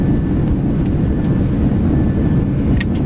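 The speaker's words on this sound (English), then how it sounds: "Reversers are out." An Airbus A321 rolling out after landing in the X-Plane 11 flight simulator, its thrust reversers deployed, producing a steady, loud low roar of engine noise that holds evenly throughout.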